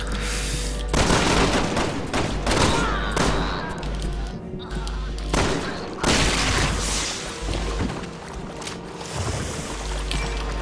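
Bursts of gunfire ring out in dark rooms in Resident Evil 6, loud and close, with heavy booming shots and rumbling impacts separated by brief pauses, over a low droning game backdrop.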